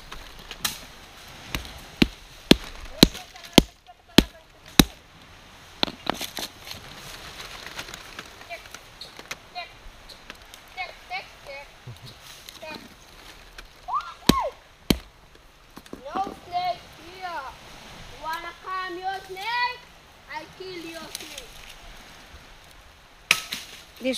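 Nut being chopped open by hand in Fiji: repeated sharp, cracking blade strikes land irregularly over a stretch of outdoor ambience, with people talking nearby in between.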